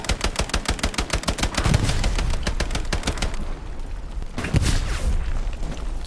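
A grease gun firing in Hell Let Loose, a steady stream of evenly spaced, slow-cadence automatic shots up close, trailing off into distant battlefield noise before another short burst.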